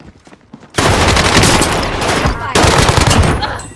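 Sustained automatic gunfire erupts in Call of Duty, loud and dense rapid shots that continue with a brief drop before resuming just as intense, preceded by a quieter moment of scattered sounds.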